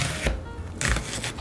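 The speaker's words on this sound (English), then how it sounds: "Onion, cut diagonal." A knife slices through onion on a cutting board in a kitchen, the onion being cut diagonally for sweet and sour fish; a few close, crisp cuts land in quick succession, with short pauses between them.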